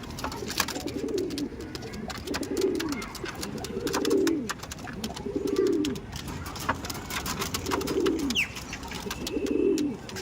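Pigeons coo in a steady series of soft, low, rounded calls, about six of them at even intervals, with faint clicks and rustling around them.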